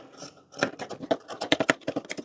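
Scissors cut through fabric for a short kurti, a quick series of crisp, close snipping and rustling sounds after a brief quiet start.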